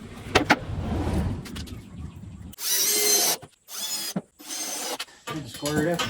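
Power drill driving 3-inch exterior screws into a wooden hay bale box, heard as several separate whirring bursts of about a second each with short pauses between them, close and fairly loud, with a voice and other sounds in the quieter stretches before them.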